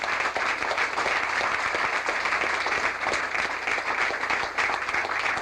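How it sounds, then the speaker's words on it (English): A church congregation stands and applauds a guest speaker, dense steady clapping filling the room throughout at moderate volume with no break. "let us stand and give this great man a round of applause"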